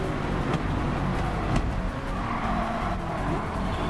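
Racing video game engines roaring steadily, loud and close, with a hint of tires scraping or skidding over the continuous motor drone.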